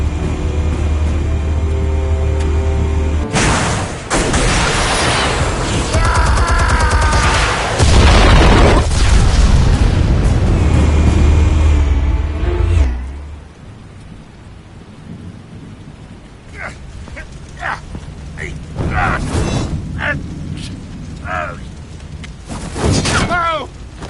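Explosives detonating in Batman: The Telltale Series, a loud, deep rumbling blast sustained for several seconds, then fading into quieter crackling debris and scattered impacts with voices in between.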